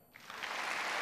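Church congregation applauding a choir during an evening service, a short soft swell of clapping that grows steadily louder.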